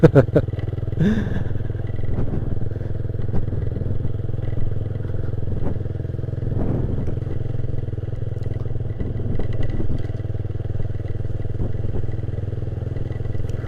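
A Satria FU motorcycle engine drones steadily throughout a ride along a riverside, with occasional rattles and clatter from the ride.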